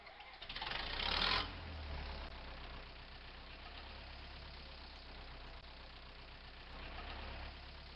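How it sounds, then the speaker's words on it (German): A Zetor 77 tractor engine in Farming Simulator 19 starts with a brief rising burst, then settles into a steady low, throbbing idle that runs on unchanged. "Machen wir mal den Motor an."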